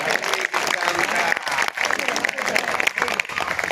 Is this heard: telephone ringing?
no